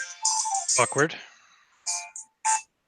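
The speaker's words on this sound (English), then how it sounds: "That was a phone." A phone rings with short, bright electronic tone bursts mixed with a voice briefly speaking, then a few more chirping ring pulses sound alone near the end.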